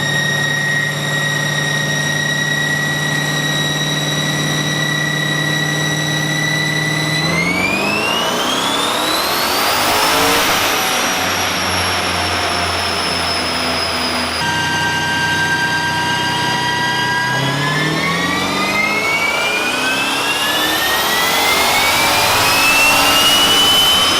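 A truck engine with a Holley EFI manifold roars through dyno pulls, climbing steadily in pitch to a loud scream, dropping back, then rising again in a second long pull.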